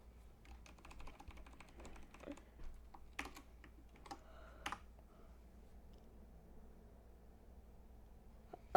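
Computer keyboard typing, quiet close key clicks in an uneven rhythm with a few sharper taps, fading out into near silence toward the end.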